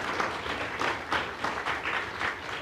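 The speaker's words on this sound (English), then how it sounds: "please a round of applause for them" Steady applause from an audience at a City of Boston scholarship ceremony, a dense wash of many hands clapping at moderate distance, continuous with slight swells throughout.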